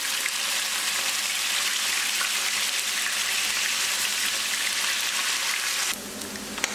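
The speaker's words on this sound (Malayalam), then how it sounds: "ബാക്കിയുള്ള ബീഫും ഇതേപോലെ തന്നെ പൊരിച്ചെടുക്കാം." Beef pieces for Kerala beef pickle fry in hot oil with a loud, steady, rain-like sizzle that holds throughout and eases a little near the end.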